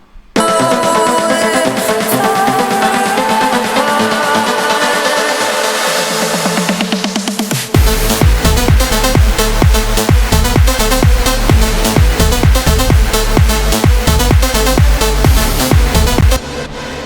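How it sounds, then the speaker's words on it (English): An electronic remix plays loud, a rising build of layered synths that sweeps upward and then breaks into a heavy drop with punchy, rhythmic bass hits. "The build and the drop sound like this."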